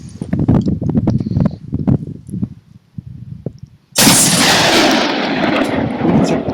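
A Doxcarms TK1 tactical shotgun fired at a 200-metre target: a single loud, sharp blast with a long rolling echo, preceded by a few seconds of faint handling noises outdoors.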